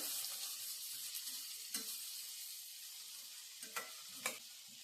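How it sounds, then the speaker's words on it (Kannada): Ingredients for a radish chutney sauté in a pan, a soft continuous sizzle broken by a few sharp scraping clicks of a spatula, faint and steady with no voices. "ತುಂಬ ಹಸಿ ವಾಸನೆ ಹೋಗುವವರೆಗೂ ಬಾಡಿಸ್ಕೋಬೇಕು"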